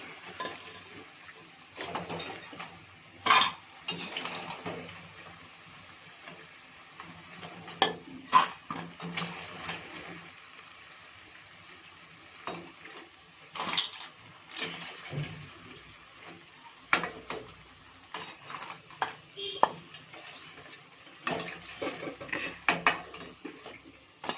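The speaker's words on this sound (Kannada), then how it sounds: "ಇವಾಗ ಎಲ್ಲನೂ ಎಣ್ಣೆಯಿಂದ ತೆಗೀರಿ" Bondas made from dosa batter lifted out of hot oil: irregular metallic clinks and scrapes of a slotted spoon against the pan, with a faint sizzle between strikes.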